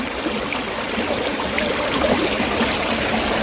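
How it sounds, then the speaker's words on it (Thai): A stream flowing beside a patch of wild garlic in the English countryside, a steady close trickling and babbling of water that stays even throughout with no voices. "อยู่ติดลำธารเลยอยู่ติดลำธารลำธารเลยนี่"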